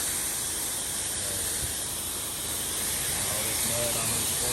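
Steady, loud hiss of a pressure washer spraying water close by to rinse mud off a house's steps, a continuous broadband rush filling the whole clip without pause.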